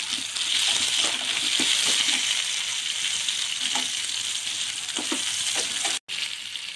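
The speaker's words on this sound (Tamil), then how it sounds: "ஒரு தக்காளி அது போடணும். இது நல்லா வதங்கட்டும்" Chopped tomato sautéing with spices in a pan for drumstick leaf chutney, a continuous bright sizzle with a few soft stirring knocks throughout, fairly loud and close, a brief dropout near the end.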